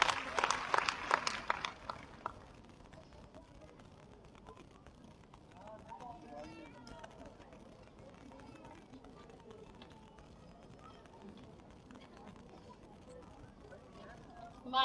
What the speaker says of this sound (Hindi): जोरदार तालियां प्रतिभा की